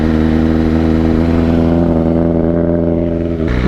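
A motorcycle engine on an off-road outing runs close and steady, its revs easing slowly downward in an even, droning idle with no talk.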